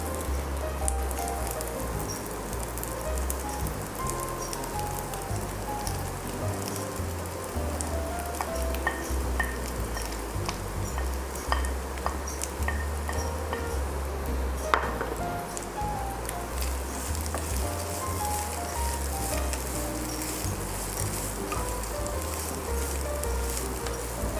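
Chicken sizzling and frying in a pan with onions while being stirred, a steady dense crackle of hot oil with occasional scraping clinks from the utensil, close and continuous without any talking.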